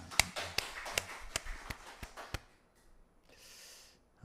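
A church congregation gives a short burst of sharp, evenly spaced claps that fades out after about two seconds, leaving quiet room hiss.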